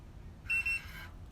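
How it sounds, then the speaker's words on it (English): A Xpreen cordless hair curler gives a single short electronic beep, about half a second long, standing out clearly over faint background hiss. "It's gonna beep."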